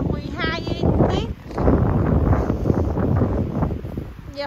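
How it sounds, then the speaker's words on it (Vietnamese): Strong wind gusts sweep snow off a house roof during a heavy spring snowstorm, a continuous loud rushing roar with blustery surges, with a person talking over it. "Gió thổi xuống mái nhà nè, ghê quá."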